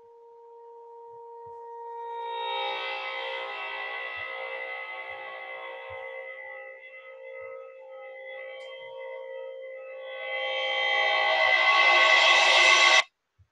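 A metal cymbal driven at 467 Hz rings with a steady, eerie sustained tone and layered overtones, swelling louder and brighter toward the end before cutting off abruptly.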